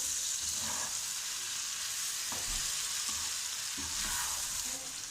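Steady loud sizzling as eggplant is stirred into a frying potato and vegetable mixture in a pan, with occasional spoon scrapes and clacks over the continuous hiss, no talking.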